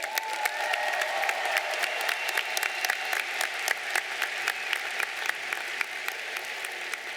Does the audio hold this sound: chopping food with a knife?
no